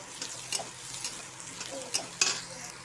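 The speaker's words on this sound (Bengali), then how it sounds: "ভালো করে ভাজবো পেঁয়াজের সাথে।" Potatoes fry with onions in a pan, a soft low sizzle with scattered light spatula scrapes and taps, fairly quiet and close, with no talking.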